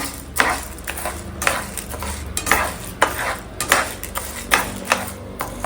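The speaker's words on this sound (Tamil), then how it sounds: "உளுத்தம்பருப்பு சேர்த்து வறுத்துக்கலாம் உளுத்தம் பருப்பு வந்து கருகிடாமல் லோ ஃப்ளேமில் வச்சு வறுத்து எடுத்துக்கணும்" Urad dal dry-roasting in a pan over low flame while making idli podi, with repeated scraping stirs and light crackling rattles of lentils against the metal, steady and close with no talk.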